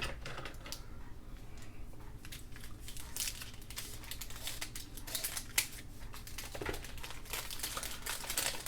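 Scissors snip and crunch through a paper envelope from 1968 in a quick run of close, crisp cuts, with some rustling and crinkling of paper between the strokes.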